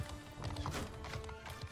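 Horses' hooves clatter in a rapid, continuous clip-clop through a medieval battle in the Realm of Thrones game, moderately loud with a brief whinny-like cry mixed in and no talk over it.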